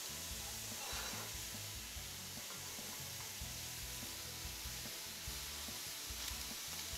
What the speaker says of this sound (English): you just want to cook this for a few minutes until the onions become translucent and fragrant